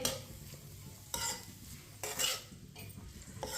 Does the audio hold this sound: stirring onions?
yes